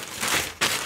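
Brief plastic crinkling in two close bursts, a short rustle followed by a louder crackle, with no talking.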